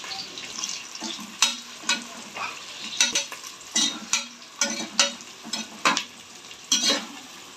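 Onion stirs through hot oil with cinnamon, cloves and cardamom, a close sizzle punctuated by repeated rhythmic scrapes of a spoon against the pan, about a dozen strokes.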